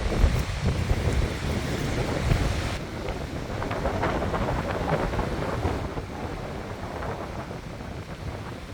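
Strong wind buffets the microphone in a loud, continuous roar at Bird Island, with waves churning and sloshing underneath throughout.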